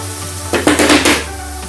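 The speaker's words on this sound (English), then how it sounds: "I'll try to take out the cake. Let's flip it over." A chocolate cake is flipped out of its pan onto a plate, a brief cluster of dull knocks and a soft clatter of pan against plate lasting about half a second, close by and alone.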